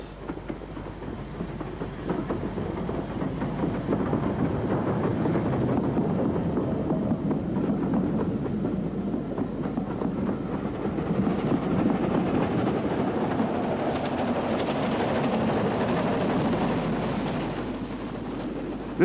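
A regular service train on the Highland Railway line, its engine in black livery, rumbles steadily close by for the whole stretch, with a faint clickety-clack of wheels and some wind buffeting; no one speaks.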